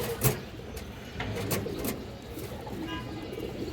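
Green-necked pigeons, including a female, coo in low, soft repeated calls close by, opening with a sharp tap and continuing under a steady background hum.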